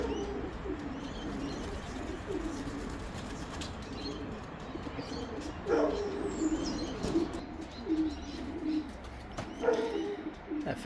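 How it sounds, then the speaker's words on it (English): Race pigeons and a fantail pigeon coo softly outdoors in repeated low rolling calls, with occasional wing flaps and faint chirps in the background. "That fantail always gets excited when there's pigeons around."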